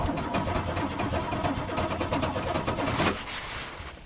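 A car engine is cranked on a cold start for racing, a steady churning whir for about three seconds that then stops without catching, close and moderately loud, no talk.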